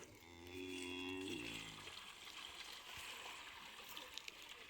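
A cow moos loudly for just over a second, a long low bellow, followed by a steady background of running water and faint splashing.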